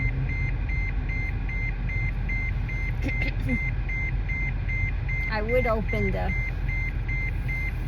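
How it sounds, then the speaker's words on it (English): A car's warning chime beeps in a steady, evenly spaced series after the engine is switched off, moderately loud and continuing while a person talks briefly partway through. "And that beeping."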